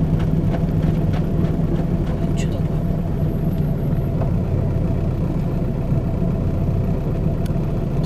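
Steady low engine rumble of a car being driven on a road in Spain, continuous and fairly loud throughout, with a few faint clicks and knocks above it and a voice speaking over it.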